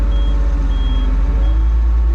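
Faint repeated high reversing beeps sound over the loud steady rumble of a nearby idling heavy farm vehicle engine during bale wrapping.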